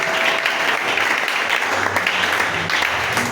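Congregation at a Friday teaching worship service in church bursts into loud, continuous applause, dense clapping sustained from start to finish with a few voices mixed in.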